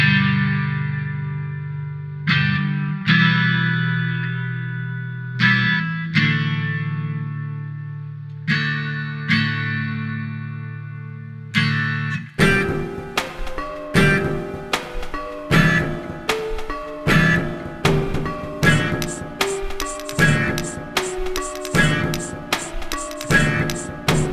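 A rock arrangement: sustained distorted guitar chords ring out and fade, then a driving section with rhythmic hits, guitar and piano layered together.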